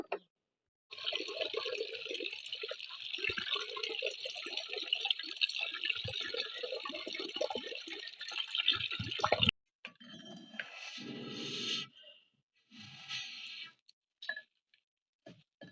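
Jackfruit seeds are washed under running water, a steady hiss of flowing tap water with small clatters, then the flow stops and gives way to brief splashes and handling sounds.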